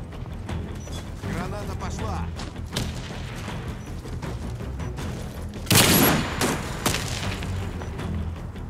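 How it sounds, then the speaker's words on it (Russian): In the shooter game Warface, one sharp, loud grenade blast bursts out midway through a stretch of scattered gunfire and clattering mechanical clicks. "Граната пошла."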